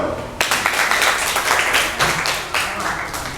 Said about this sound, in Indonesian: Kalau gitu, tepuk tangan dulu.